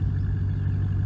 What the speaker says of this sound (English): it's quite the symphony of automotive sounds